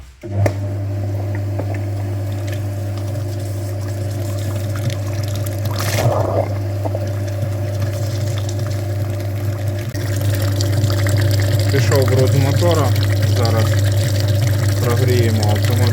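A cooling-system flushing machine hooked up to a Chevrolet Lacetti engine runs with a loud, steady hum, while liquid sloshes and gurgles through it close by. A voice talks faintly underneath toward the end.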